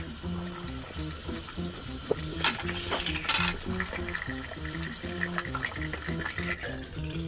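Running tap water from a faucet splashes steadily while hands are washed, a continuous broadband hiss heard under rhythmic background music.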